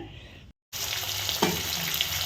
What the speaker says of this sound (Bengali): মাছ ভাজা চলছে বন্ধুরা,